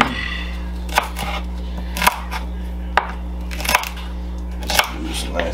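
Knife chopping celery into slices on a board while making Spanish-style chicken soup: about five sharp, evenly spaced cuts at a steady rhythm over a constant low hum, up close and fairly loud.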